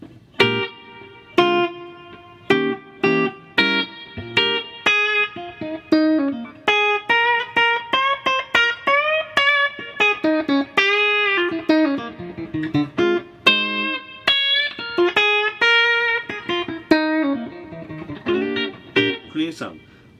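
A Valentine Chambered electric guitar played through a reverb pedal rings out in plucked notes and strummed chords, each attack trailing off in a lingering wash over about twenty seconds, with no talking.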